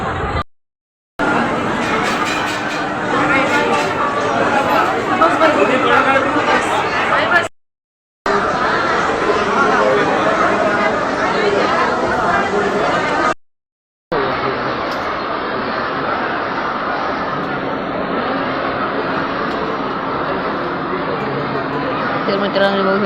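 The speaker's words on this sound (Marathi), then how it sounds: "तर मित्रांनो बघू शकता इथे किती गर्दी आहे." A crowd of visitors at the Shegaon temple fills the space with continuous dense chatter and babble. Two brief gaps break the noise, and the crowd sounds close and steady throughout.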